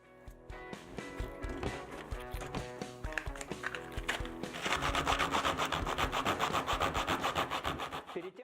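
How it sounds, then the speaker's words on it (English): Steady scraping and rubbing strokes, growing denser and louder halfway through, as emery paper is worked back and forth to even out a surface on a small speaker build. "Now, we take some emery paper and even it out."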